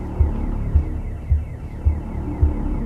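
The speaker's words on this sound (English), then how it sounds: "Who set this alarm off?" A low, pulsing alarm in The Occupation video game throbs steadily in a deep hum, with about five evenly spaced beats over a continuous drone.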